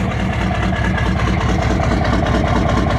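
A 1993 Chevrolet K3500 diesel engine idles low and steady with a loud, close, continuous rumble and a regular pulsing beat, no voices over it.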